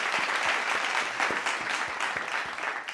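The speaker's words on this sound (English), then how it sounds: "Oh, I get applause too." Brief dense applause from a crowd, steady and fairly loud throughout, with a few individual claps standing out.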